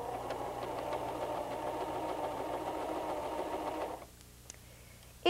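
A White 1735 sewing machine stitches at a steady, continuous hum for about four seconds, then the motor stops and the room falls quiet, leaving a faint click before a sudden louder sound at the end.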